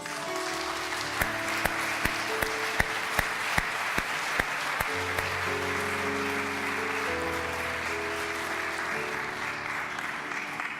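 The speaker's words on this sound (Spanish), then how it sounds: "Quiero invitarle a que le dé un fuerte aplauso a Jesús" A church congregation breaks into steady, sustained applause that fills the room for the whole stretch, with a few sharper claps standing out and music playing softly underneath.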